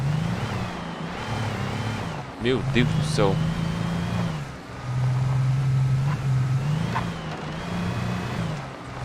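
Car engine in the video game Alan Wake, a steady low drone that rises and settles as the car is driven, running under excited talk throughout.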